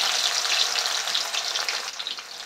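Pakoras sizzling in hot oil in a home kitchen, a steady, loud, dense hiss and crackle that holds throughout with no break.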